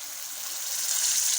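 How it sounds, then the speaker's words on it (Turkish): A steady, close hiss of water pouring into a pot, growing slightly louder over a brief moment with no talking. "Şimdi suyumu da koyunca biraz kaynamaya bırakacağız."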